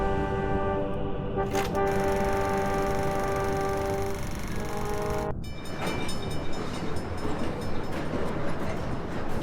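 Train running in Sam and Max: The Devil's Playhouse, a loud sustained horn-like tone that cuts off abruptly, followed by a steady rumbling roll of the rail cars, with no talking.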